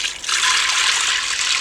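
About two cups of chicken stock and an equal amount of water pour steadily into a cooking pot, a loud continuous splashing rush with no talk.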